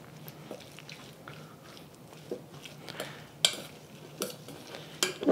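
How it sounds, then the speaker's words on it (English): Spoon stirring beef in a soy sauce and cornstarch marinade, soft wet scraping with a few sharp clicks against the bowl, close and quiet, no talk. "Stir this around until all the cornstarch is dissolved"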